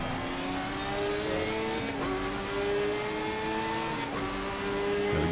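Audi race car engine in a sim racing game, loud and close, revving up through the gears with pitch climbing and dropping at each shift, three clear upshifts across a steady hard-driven drone.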